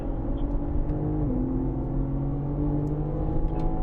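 A BMW M race car engine drones steadily and loudly on track at Sonoma Raceway, its pitch shifting slightly as the throttle changes, with no talking.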